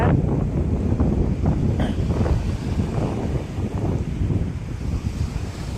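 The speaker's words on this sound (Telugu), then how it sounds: "గాలి ఎక్కువగా ఉంది, గాలి అయితే ఎక్కువగా ఉంది." Strong wind at an oil berth in Krishnapatnam Port buffets the microphone in heavy, rumbling gusts, with a roaring low wash like surf beneath it; no voices.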